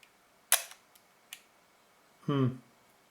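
A Leica M6 film camera with sticky, slow gears fires its shutter at the 1-second setting: a sharp opening click, a few faint ticks, another click, then a louder closing snap about 1.7 seconds later, all in a quiet room.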